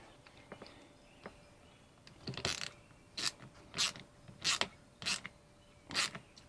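A clamp on a Dometic 300 toilet water valve being tightened, heard as about six short, sharp ratcheting bursts spaced roughly evenly, close by, with no talking.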